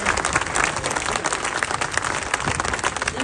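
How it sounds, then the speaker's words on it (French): Loud sustained applause from a crowd at a municipal council meeting in Menton, dense continuous clapping filling the room with no pause. "je vous demande d'applaudir très fort"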